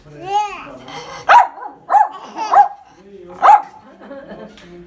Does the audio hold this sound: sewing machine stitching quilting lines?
no